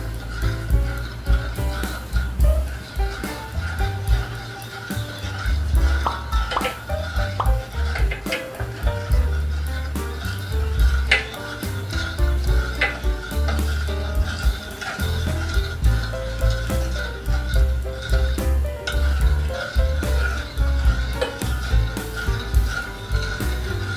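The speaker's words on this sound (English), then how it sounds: "Stirring slowly." A spoon slowly stirs malva pudding sauce with fresh cream in a pot, soft scraping and swishing repeating steadily over a low background hum.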